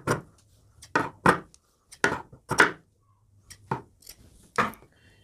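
Several pieces of cord cut short with scissors or a blade for a kurti neckline design, heard as a string of crisp, separate snips at an uneven pace, close and fairly loud. Faint low hum sits between the snips.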